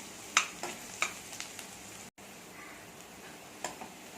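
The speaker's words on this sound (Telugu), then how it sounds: "ఆనియన్స్ ఇలా ఫ్రై అవ్వాలి" Chopped onions and green chillies fry in a pan, a faint continuous sizzle broken by a few sharp clicks of a spatula against the pan.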